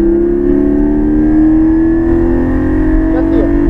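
Porsche Cayman GT4 engine accelerating hard on a racetrack, a loud, steady rising drone running unbroken throughout.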